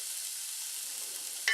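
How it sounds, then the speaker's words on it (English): Onion browning in a frying pan gives an even, moderate hiss of sizzling, ending in a short sharp click. "we're going to let the onion brown"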